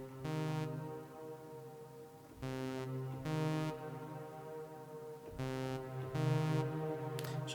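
Synthesizer run through an M-Vave Mini Universe reverb pedal on a short decay setting, sustained droning chords with short brighter stabs layered on top, moderately quiet with no talking.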